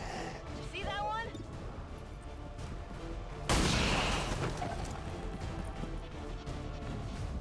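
Gunfire in the turn-based strategy game XCOM 2: a sharp, loud burst of shots cracks out midway, then rings off under steady talk from a player.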